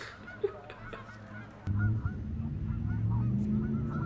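Geese honk on a golf course during a tournament round, a few scattered calls at first, then a loud, dense flock chorus of overlapping honks.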